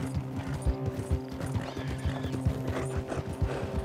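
Horses' hooves clip-clop in a steady, close rhythm in the Red Dead Redemption 2 video game, with a faint horse whinny and a low mechanical hum under the hoofbeats.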